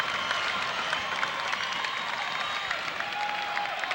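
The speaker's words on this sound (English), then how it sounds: "as you can hear, the crowd is going crazy" Basketball crowd at a Valdosta State Blazers home game against Troy State in 1989, cheering and applauding in a dense, continuous roar of claps and shouts filling the arena.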